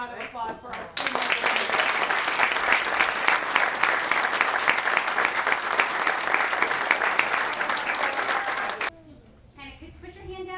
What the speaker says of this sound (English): Another big round of applause for our students